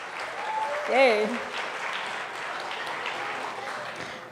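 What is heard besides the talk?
applause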